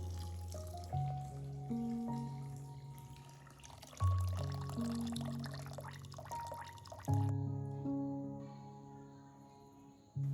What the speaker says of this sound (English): next add the required amount of water to the rice.